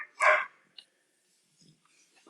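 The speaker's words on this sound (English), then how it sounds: "I apologize if you hear one of my dogs in the background barking." A single short dog bark, close and fairly loud, followed by faint breathing and small noises in an otherwise quiet room.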